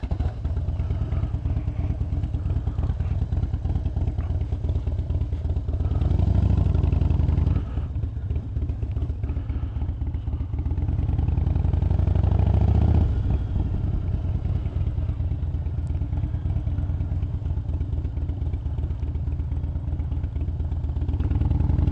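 Riding a Harley motorcycle fitted with a Saddlemen step up seat: a steady, loud engine drone with continuous road and wind rumble, rising in pitch in brief swells as the bike accelerates, with no talk.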